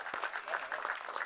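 Brief burst of audience clapping at a Tamil film audio and trailer launch, a quick patter of hands from a crowd in a hall, moderately loud and unbroken for about a second.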